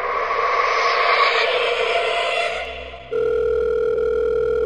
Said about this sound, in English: we get a phone call from none other than...